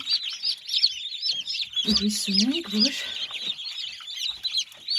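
Ducklings and goslings in an incubator peep in a dense, continuous chorus of high chirps, close and steady, while someone talks briefly partway through.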